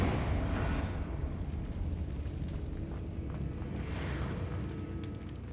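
Fiery spell blasts from the Hogwarts Legacy video game, Confringo and Incendio, giving a dense roaring burst that rumbles and sustains throughout, swelling slightly near the end with no talk.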